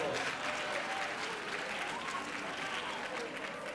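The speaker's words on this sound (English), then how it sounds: "So let us give her a round of applause." An audience at an annual education congress applauding: a steady, dense wash of many hands clapping together, fairly even in loudness and heard from within the hall.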